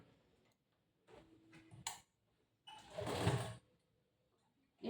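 A sewing machine stitches a boat neck blouse in two short runs, a brief mechanical whirr followed by a louder, longer burst of rapid needle ticking, separated by quiet pauses.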